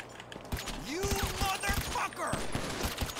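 Gunfire in GTA 5 amid a zombie virus outbreak: scattered rapid shots crackle in quick clusters while someone talks over them.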